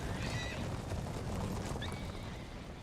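Cavalry horses neigh and whinny over steady clip-clop hooves in an Empire Total War battle, a dense continuous mix with a brief high whinny near the end and no talk.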